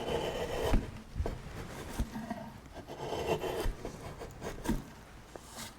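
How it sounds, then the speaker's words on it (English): A long bent bowl gouge carving dry maple by hand, with a series of close, soft scraping and rasping cuts in short strokes and pauses, quiet and without speech. "cutting through this dry maple quite efficiently"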